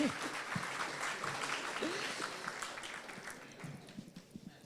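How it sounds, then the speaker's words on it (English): A gala dinner audience applauds at the Bank SA Golden Gavel 21st birthday celebration, a broad wash of steady clapping that fades toward the end, with some voices mixed in. "give yourselves a round of applause"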